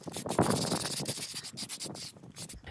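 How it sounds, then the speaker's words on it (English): Steel wire brush scrubbing along an asphalt driveway crack to clear loose rocks, a close, uneven rasping scrape in short strokes. "Let me run over it with the steel brush to ensure there are no loose rocks."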